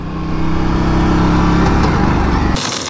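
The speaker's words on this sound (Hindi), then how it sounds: "इसका जो गियर बॉक्स है ऑफ बाइक का बताऊँ, ये देखो कितना आवाज़ आ रहा है" Gearbox noise from an Aprilia RS457 motorcycle, a loud, steady mechanical engine drone with a low harmonic hum and whirring, ending abruptly in a brief burst of high noise.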